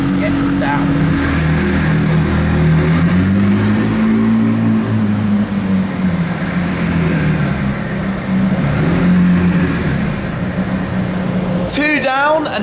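A car engine drones steadily at low revs as the car creeps carefully down ramps, its pitch rising and falling gently, with a brief sharper noise at the end.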